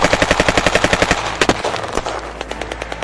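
Machine-gun fire raining on a small village, first a rapid even burst of loud shots, then scattered heavier single blasts and sparse pops that trail off, with no voices.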